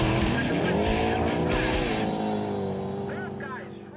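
Race cars drag racing on plowed lanes of a frozen lake in a Wisconsin winter: a loud, close engine roar with rising revs and tire squeal, fading as the car pulls away, with a voice talking over it.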